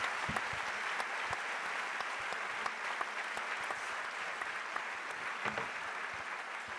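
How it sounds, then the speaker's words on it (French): Audience at a science-fiction festival panel on artificial intelligence applauding at the end of the talk, a steady, moderately distant round of many hands clapping, with no speech over it. "Très belle fin, on peut les applaudir."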